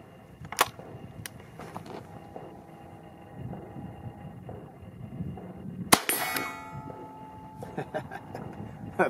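A .22 caliber adapter round fired from a survival shotgun outdoors, one sharp report with ringing decay midway, a fainter crack earlier, and a person talking over steady background noise.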